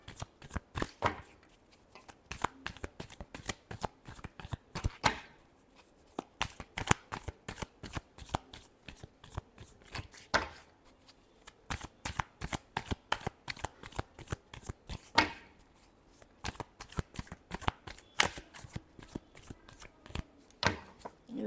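Tarot cards being shuffled by hand in a steady run of crisp riffling flutters and soft slaps, close and fairly loud, with brief pauses between bursts and no voices.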